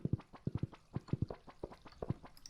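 Horse hooves in the Stardew Valley farming game: quick, close, rhythmic clip-clops in uneven pairs, clear and alone.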